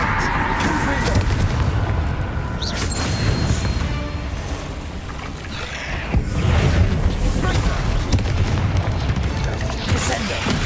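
Confringo blasting spells in Hogwarts Legacy: repeated booming explosions and crackling impacts amid dense game combat noise, loud and continuous, with a voice calling out spell names over the din.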